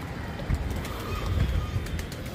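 Pigeons being fed grain, soft cooing and fluttering mixed with scuffling and pecking sounds nearby, with people talking at the same time.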